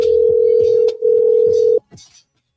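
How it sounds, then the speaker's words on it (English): A telephone ringback tone on an outgoing call, a loud steady electronic tone with one short gap, then it cuts off, followed by brief faint clicks and a trace of voice. "Miz, I'm calling you. I'm seeing if your phone works"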